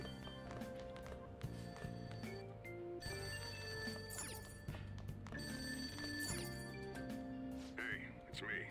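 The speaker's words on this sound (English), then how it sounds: "Phone's ringing. The ringing sound isn't coming from my cell phone." A telephone ringing downstairs in the Persona 5 Royal video game, repeated ring bursts over steady game music at low level.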